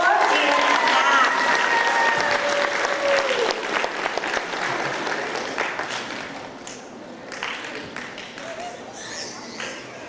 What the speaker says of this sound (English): Let's give another round of applause for our perfect score in math.